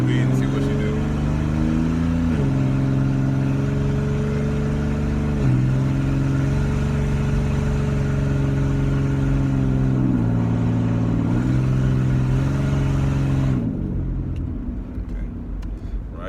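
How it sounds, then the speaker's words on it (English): A car accelerates up to speed with a close, steady engine drone that climbs and steps through several gear changes before dropping away near the end. "Let's get it up to speed and see what you do."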